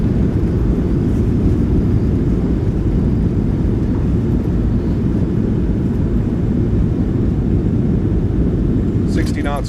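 Roar of a PMDG 737-700's thrust reversers after landing in Microsoft Flight Simulator 2024, a loud continuous low rumble from the cockpit that holds steady throughout, with a brief click near the end.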